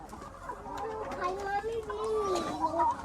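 Chickens cluck in a low, soft murmur close by, with people talking over them.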